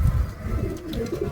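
A racing pigeon, a long-bodied highflyer, coos in low soft murmurs close by, a steady throaty burble filling the short moment with no talking.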